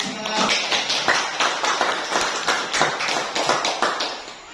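Students in a classroom applaud a classmate with fairly close, brisk clapping that pulses in uneven waves for several seconds, with no talking over it.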